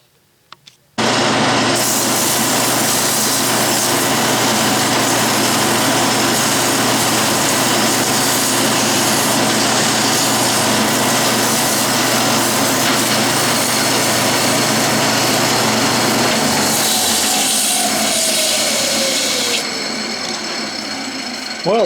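A metal lathe turning a wooden foundry sand rammer pattern runs steadily at close range, a loud continuous hum and whine with faint scraping from the cut, then spins down near the end.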